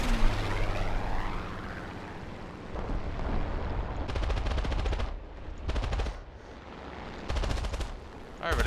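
Aircraft machine gun fire in War Thunder from a Ki-27 Otsu fighter, several long loud rattling bursts over a steady engine drone, with quieter gaps between them.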